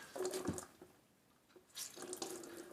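Water from a sink tap splashes onto a towel being wetted, in two short bursts separated by a quieter pause. Close and moderately loud.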